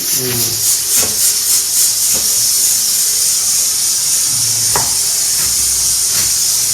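Steady loud hiss of steam from taro boiling in a pot fills the whole stretch, with a few faint knocks and brief talk underneath.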